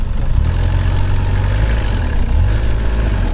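Lada Niva off-road car engine working through an obstacle course, a steady deep rumble with low throbbing, continuous and close throughout with no voices.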